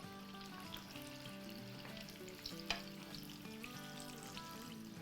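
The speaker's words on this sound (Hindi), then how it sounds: "देखिए 10-12 मिनट हो गई है हमारे बैंगनों को, पकौड़ों को फ्राई होते हुए।" Eggplant pakoras deep-frying in hot oil give a steady, close sizzle and crackle throughout, with a brief stirring knock partway through and no talking.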